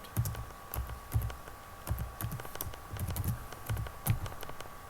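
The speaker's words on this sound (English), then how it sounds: "I'm going to type in the new password that I want to have for my account" A new password being typed on a computer keyboard: quiet, uneven bursts of key clicks with short pauses between groups, close by and without speech.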